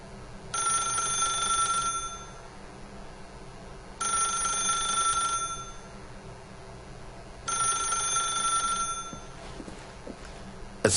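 A telephone rings in the video game The Stanley Parable, three long electronic trilling rings separated by pauses, clear and close over a quiet background.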